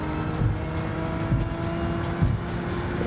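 A Subaru Impreza WRX drives in Gran Turismo 7, giving a steady engine drone at constant revs with recurring rhythmic thumps, loud and close with no talk over it.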